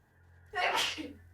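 A single loud, close sneeze from a person playing the online game Lord of the Rings Online, a sharp burst over quiet room tone with a faint steady hum beneath.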